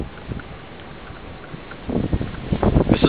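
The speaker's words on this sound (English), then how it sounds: "The wind is strong as hell." Strong wind gusts during a February snow storm in Chicago, a steady rushing roar with blustery buffeting against the microphone that swells louder and rougher toward the end.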